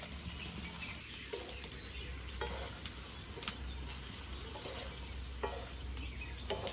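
Meat sautéed nearly dry in a pot with potatoes added, stirred with a spatula: a continuous low sizzle under irregular scraping and clanking strokes, with faint chirps in the background.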